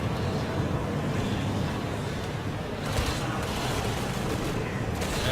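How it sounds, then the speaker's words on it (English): Continuous gunfire in the Resident Evil 6 action game set in China, a steady dense barrage of shots with heavier bursts near the three- and five-second marks, loud and unbroken throughout. "So I'll shoot this guy's legs out."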